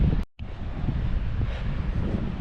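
Steady wind blowing across a beach film set, a loud broadband rush buffeting the microphone with a brief dropout near the start.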